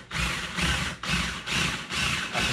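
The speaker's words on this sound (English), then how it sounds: "I'm going to drill through the top piece of wood" A power drill whirs in five short bursts with brief pauses between, grinding steadily through Adirondack chair wood close by.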